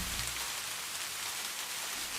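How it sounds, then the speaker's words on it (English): Rain pours onto a city street as a dense, constant hiss of countless drops spattering the pavement, steady and enveloping with no voices. "You stand watching as the rain cleanses away the stress of the day."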